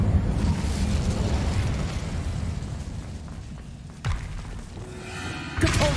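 An Incendio fire spell cast in Hogwarts Legacy, heard as a loud rushing burst of flame that roars continuously, with sharp thumping impacts near the end.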